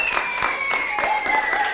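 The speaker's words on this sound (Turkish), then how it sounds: "Alkışlıyoruz." Schoolchildren at a middle school drama session clap together in a steady, dense burst of applause that fills the room, with faint voices mixed underneath.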